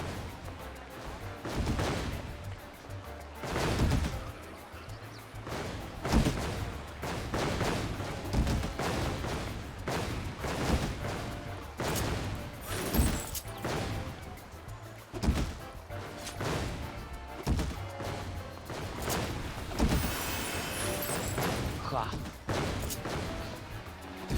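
Bombs going off in the video game Final Fantasy XIV, a run of booming blasts and crashes at a fairly steady pace over a dense layer of game sound, with a voice talking at times.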